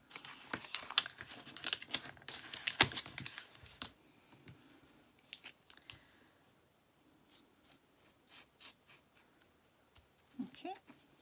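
Scissors trimming excess vellum paper off a handmade card, with close crisp snips and paper rustling in the first few seconds, then quieter handling sounds and faint crinkles.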